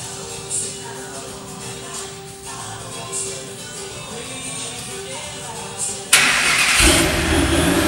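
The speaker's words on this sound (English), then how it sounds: "Have Wyatt go ahead and turn the key for me." A supercharged Factory Five 500 GT car engine cranks and fires up abruptly near the end, jumping to a loud, close roar after a stretch of quieter background.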